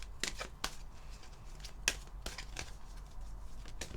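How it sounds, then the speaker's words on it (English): Cards being drawn from a deck, a handful of soft, brisk flicks and slides spaced irregularly, close and quiet. "let's get 3 cards from here"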